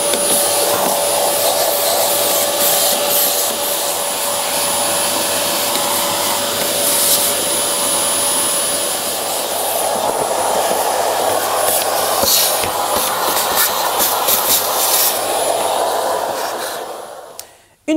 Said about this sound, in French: Débarrassez la machine d'autant de résidus que possible à l'aide de votre aspirateur.